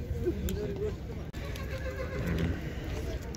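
A horse whinnies close by at the Uzynagash livestock market near Almaty, with hoof clip-clops and a busy background of market voices and bustle around it.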